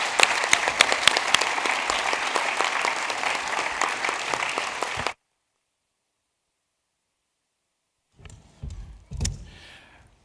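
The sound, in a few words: audience applause for bilingual educators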